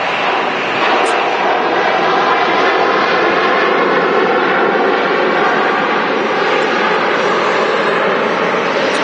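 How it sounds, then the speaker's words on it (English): A Ryanair jet airliner arrives from Milan and touches down at Manchester Airport, producing a loud, steady roar of jet engines that holds constant throughout. "Here's Ryanair. Yeah, it's just about to touch down from Milan."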